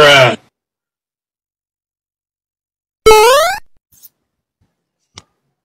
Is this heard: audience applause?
no